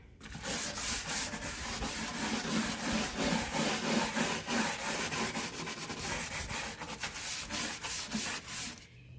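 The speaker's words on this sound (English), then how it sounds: "So you're really going to scrub and clean your furniture." A stiff scrub brush loaded with Krud Kutter cleaner works back and forth over wooden nightstand furniture, a steady, close, continuous rubbing and scraping with quick rhythmic strokes and no talking.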